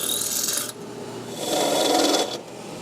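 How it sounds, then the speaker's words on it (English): A step bit drilling a 7/16 inch hole through a metal chassis for a tube bass preamp, giving a harsh grinding rasp in two sustained bursts that shift in pitch, close and loud, without talk. "I'll start with an 1/8 inch pilot hole, and then use one of my step bits to get to 7/16."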